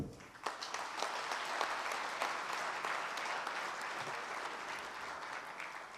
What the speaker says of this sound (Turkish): hep birlikte alkışlamanızı diliyorum